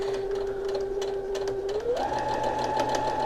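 A sewing machine runs steadily while stitching a quarter-inch quilt seam, its hum rising in pitch as the motor speeds up, close and continuous.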